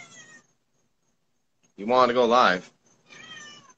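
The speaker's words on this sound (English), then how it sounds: "The feral cat just nibbled on me." A feral cat gives a loud, drawn-out meow at close range, set between stretches of someone talking before and after it.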